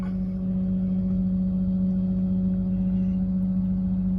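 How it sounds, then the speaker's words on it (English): The hydraulic pump on a 2016 Ford F-550 dump truck drones steadily as the dump bed rises, a smooth, constant low hum heard up close with no talk. "Dump bed goes up."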